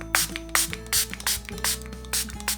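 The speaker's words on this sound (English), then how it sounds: "to finish the makeup, I'm adding a little bit of setting spray." Several short, quick spritzes of a makeup setting spray bottle in a steady rhythm, close by, with faint clicks and a low hum in between.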